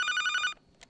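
A telephone rings during a Spanish-language call-in broadcast, a bright electronic bell trill lasting about half a second, then a short faint blip.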